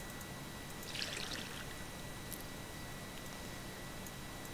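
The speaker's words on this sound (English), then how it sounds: "Got to put the water in." Water poured into a container in the survival game Mist Survival: a brief, faint trickling splash near the start, then only a low steady background hum with no talk.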